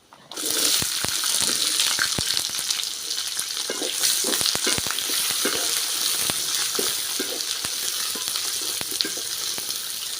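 Small onions sizzle and fry in hot oil in a pan for a fenugreek kuzhambu, a constant close crackling hiss with occasional stirring clicks throughout.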